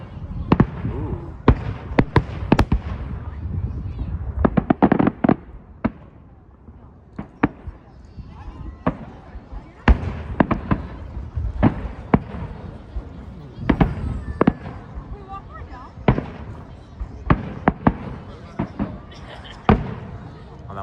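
Victoria Day fireworks burst over Ashbridges Bay in Toronto, dozens of sharp booms and crackles coming at an irregular pace, some near and loud, others fainter and farther off, with spectators talking and exclaiming between the blasts.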